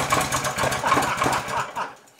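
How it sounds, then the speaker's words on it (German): A small gasoline engine on a sand spreader runs close by, choke and fuel tap set, with a rough, pulsing chug that sputters unevenly and fades near the end. "Hier ist der Choke, Benzinhahn, bisschen Gas geben."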